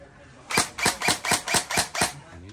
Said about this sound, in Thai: อันนี้ทีละนัดต่อไปก็ดับเบิ้ล2นัด